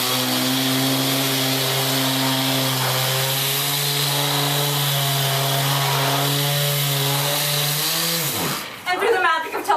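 A handheld power sander runs on wood with a loud, steady motor whine that holds for about eight seconds, then winds down and cuts off near the end, with brief rustling afterward.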